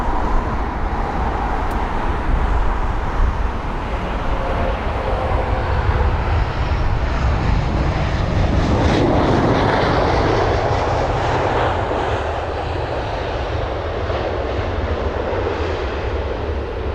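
A 14-year-old Airbus A320, EI-DTH, passes overhead at London Heathrow at sunset with a loud, continuous jet roar that swells toward the middle and eases slightly afterward.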